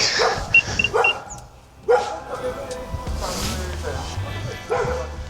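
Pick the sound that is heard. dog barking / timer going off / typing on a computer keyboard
dog barking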